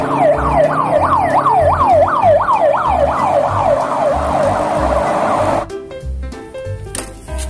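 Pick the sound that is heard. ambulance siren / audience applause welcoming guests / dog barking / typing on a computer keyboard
ambulance siren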